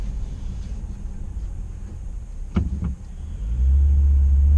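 A car drives along a road with a steady low engine rumble and tire noise, a couple of brief clunks midway, then a heavier surge of low rumble as it speeds up.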